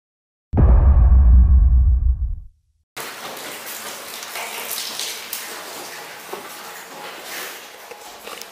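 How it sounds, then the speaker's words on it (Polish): After a brief loud rumble and a moment of silence, a steady hiss of rain falls outdoors on a cold day in Bolivia, even and moderately loud to the end. "Deszcz pada, słyszycie?"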